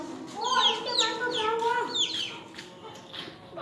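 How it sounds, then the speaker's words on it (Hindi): A hen clucks and squawks in a rapid run of loud, rising calls, with a brief burst of wing flapping as she flies off. The calls are close and dominate the sound throughout. "यार मुर्गी उड़ गई है।"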